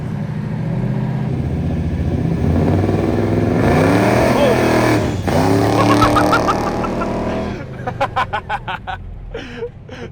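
A 1969 Oldsmobile 442 accelerating hard on a test drive, its engine climbing through a loud rising roar heard from inside the car, then easing off into choppy bursts near the end.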